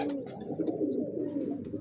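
A pedigree big-breed pigeon coos in a low, steady, throaty warble, close by and alone, with soft rolling pulses.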